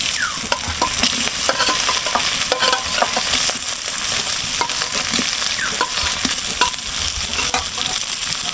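Boiled potatoes tumble into hot oil already crackling with whole cumin seeds and bay leaves, a steady loud sizzle with scattered scraping stirs and clinks, no voices.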